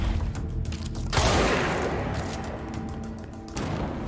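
Rapid weapon fire from the video game Control, a dense continuous burst of shots running through most of the stretch, loud and close, with a heavier blast near the start and the firing tailing off toward the end.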